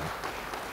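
A brief, quiet wash of applause from a church congregation during a sermon, a dense and steady patter with no individual claps standing out.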